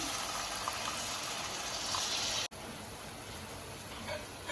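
Water gushes steadily into a pan of green peas chaat masala, a continuous splashing pour that briefly cuts out midway before resuming.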